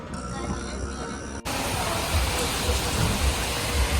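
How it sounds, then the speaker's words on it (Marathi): Rain falls in Nashik as steady, broad, close hiss, with a brief break before it returns louder and fuller and continues to the end. "मस्त पाऊस पडतोय बघा"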